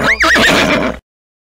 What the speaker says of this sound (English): A horse! The cowboy's horse, I bet.